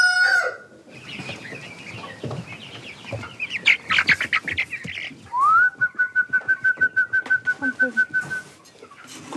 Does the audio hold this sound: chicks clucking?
yes